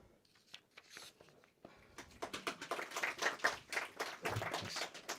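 Sparse clapping from a small audience after a poem at a poetry reading live stream, starting with a few scattered claps and building into irregular, moderately close clapping before trailing off.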